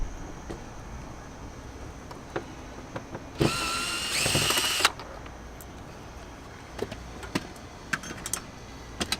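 A power driver spins out a T30 Torx screw from a 2018 Volkswagen Tiguan during speaker removal, one loud whirring burst of about a second and a half amid scattered clicks and taps.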